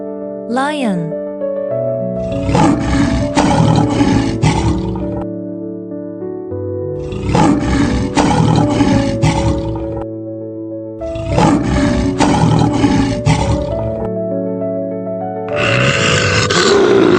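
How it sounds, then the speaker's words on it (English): A lion roars loudly and close, in three long rumbling bursts separated by short pauses, with a fourth beginning at the end, after a brief rising call at the start. "Lion."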